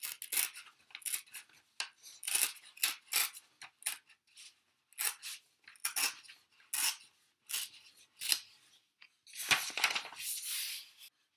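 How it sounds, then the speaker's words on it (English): Paper crackles and rustles in a series of short bursts as a folded section is creased back and forth, then a longer rip near the end as it tears off, close up with no talking. "I'm going to fold this section back and forth a couple of times and tear it off"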